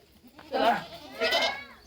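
A goat gives two short, wavering bleats in quick succession, close by and fairly loud.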